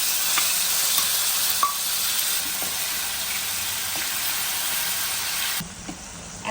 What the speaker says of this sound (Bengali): এখন এই তেলে আমি ম্যারিনেশন করা এই চিকেনটা দিয়ে দেব।